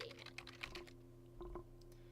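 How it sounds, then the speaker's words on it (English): Keys on a computer keyboard are tapped in a quick, light cluster of clicks, followed by a pause and a couple more keystrokes, quiet and close over a low steady hum. "So all you need to do is start typing."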